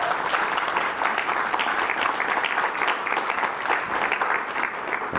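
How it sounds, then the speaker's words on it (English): A crowd applauds a speaker at a public forum, steady dense clapping sustained at an even level from start to finish with faint crowd noise. "So round of applause for Fabian."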